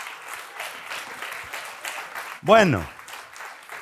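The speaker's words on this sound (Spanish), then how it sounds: "Dele un aplauso al Señor." A church congregation applauds during a Spanish-language sermon, scattered clapping carrying on under the pastor's voice, which briefly breaks in loudly with a short spoken word partway through.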